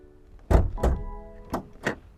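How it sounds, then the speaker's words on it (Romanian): Hood of a 2020 BMW X3 being opened, a few hollow metallic thunks and clunks spaced apart, close and loud with no voices. "cum se deschide capota. Sau mai bine zis, sunetul care îl redă"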